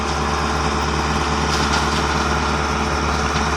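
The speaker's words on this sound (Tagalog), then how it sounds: "binabatak na ng truck, hinihila na." A truck engine pulls another truck on a tow rope, a steady close mechanical drone with a throbbing low pulse and dense upper hum, constant throughout without a break.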